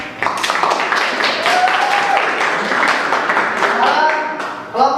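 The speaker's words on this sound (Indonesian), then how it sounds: "Bagus sekali, tepuk tangan lagi." Classroom group applauding a presentation, a steady burst of clapping with tonal voices and cheering mixed in, lasting several seconds before tapering.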